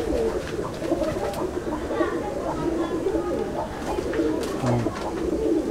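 Chennai breed pigeons coo and murmur continuously in a loft, a steady layered bird chatter with soft throaty calls, fairly close and moderately loud throughout.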